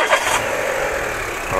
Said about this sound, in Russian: может, заведем давай, чтобы зрители послушали, как двигатель звучит